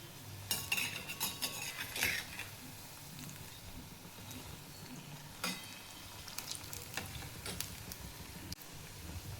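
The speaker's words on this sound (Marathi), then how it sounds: "दोन्ही साइडनी पण तळून घ्यायचे।" Poha vadas deep-fry in hot oil, giving a soft continuous sizzle with scattered clinks of a metal utensil against the pan, quiet and without talk.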